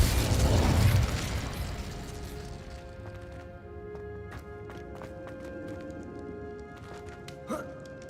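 A Depulso spell blast cast in the Hogwarts Legacy game on PS5 hits as a loud, booming burst at the start, then decays into a ringing, rumbling tail with scattered clanks and a small pop near the end.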